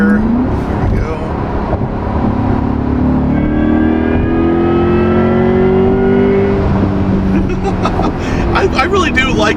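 A Chevrolet C8 Corvette E-Ray in sport mode pulls hard through the gears, its engine note sweeping up in pitch with an added hybrid tone, loud and close from inside the car, with a voice talking over it.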